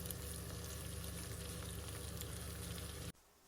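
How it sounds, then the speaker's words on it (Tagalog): Corned beef sizzles and spits steadily in a hot pan as it is stirred and browned for spaghetti sauce, a dense continuous frying hiss that cuts off abruptly near the end. "i-mix lang natin siya ng maigi para maging brown na rin ang corned beef at maging malasa na rin"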